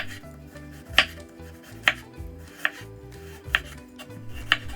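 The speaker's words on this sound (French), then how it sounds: "on va détailler des lamelles en biais de façon à pouvoir avoir des lamelles bien longues" A knife slices a peeled carrot on a cutting board into long diagonal strips, five sharp evenly spaced chops over a low steady background hum, with no voice.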